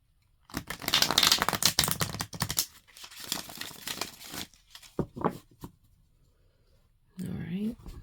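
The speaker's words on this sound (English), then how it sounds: "All right, cut the cards." A Renaissance Tarot card deck is shuffled and cut, with dense riffling and crinkling flutter for several seconds, then a few sharp taps and a brief rustle at the end. Nobody speaks over it.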